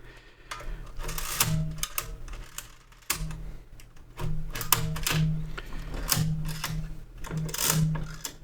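A Brunsviga 13ZK mechanical calculator being worked by hand, with steady clattering and ratcheting of gears and levers, a low whirring hum rising in repeated cranking bursts, close up and continuous.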